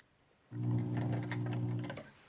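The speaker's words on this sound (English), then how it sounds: "We're stitching to the corner, slowing down and carefully keeping the needle at the same distance as we go" A sewing machine runs steadily for about a second and a half, stitching a fabric mask slowly toward a corner, its motor hum close and even before stopping.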